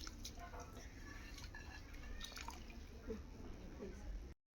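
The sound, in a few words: water boiling in a pot for fried rice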